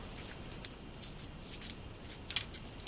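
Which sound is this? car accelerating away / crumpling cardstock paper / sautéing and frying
crumpling cardstock paper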